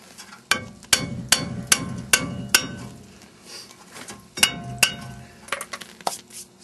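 A hammer strikes a stuck brake drum on a Dodge Dana 70 axle, sharp metallic taps landing in two quick bursts of about six blows each, separated by a pause, in cold outdoor conditions.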